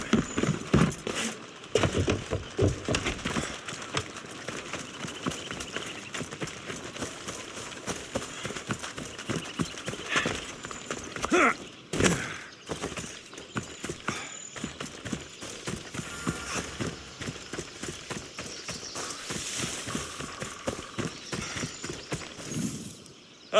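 Rapid, rhythmic hoofbeats clatter continuously, a horse clip-clopping at a quick gait with a few heavier thumps along the way, during a horse race in the video game Assassin's Creed Odyssey.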